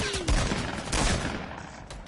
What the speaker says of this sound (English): they're shooting from the base